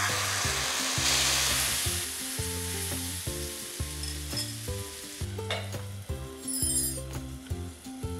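Finger millet (nachni) batter sizzles and crackles steadily as it fries on a hot tava, a continuous close frying hiss with clinking and scraping of a utensil throughout.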